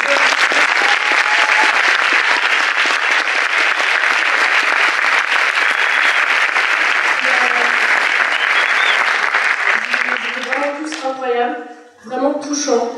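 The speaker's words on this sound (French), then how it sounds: "je pense qu'on peut vraiment les applaudir" A large audience applauds at the final of a French speech contest, a loud, dense and sustained clapping that fades out at the end as a voice starts speaking.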